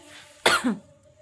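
A single sharp cough from a person with a long-lasting cold, close and fairly loud, rising abruptly from a quiet room and trailing off into a brief throaty rasp.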